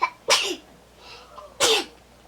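Two sharp sneezes about a second apart, close and loud, each a sudden burst followed by quiet, during a drugstore makeup get-ready session.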